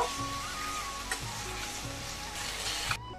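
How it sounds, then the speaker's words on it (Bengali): Potatoes and cauliflower sauté with spices in a pan for cauliflower kalia, a steady close sizzle with occasional scrapes and stirring clatter that cut off abruptly near the end. "এবার মশলার সাথে আলু আর ফুলকপি একটু কষিয়ে নেব।"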